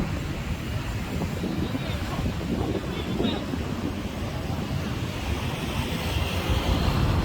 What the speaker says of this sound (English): It's windy. I think we're gonna get rain.